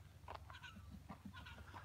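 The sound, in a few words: bird calling at daybreak in the bush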